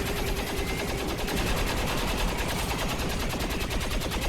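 Sustained rapid gunfire in the tactical strategy game XCOM 2, a dense continuous stream of shots holding steady and loud for several seconds.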